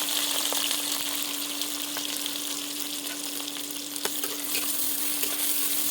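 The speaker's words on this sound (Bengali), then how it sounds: "তেল আমার গরম হয়ে গেছে, আমি দিয়ে দিচ্ছি পেঁয়াজ।" Onions frying in hot oil in a kadai give a steady, close sizzling hiss with occasional stirring clicks, continuous and fairly loud over a constant low hum, with no voices.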